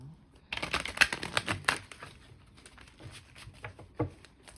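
Tarot card decks are shuffled by hand in quick rustling bursts, papery riffles and taps that come close up and fade toward a few soft flicks.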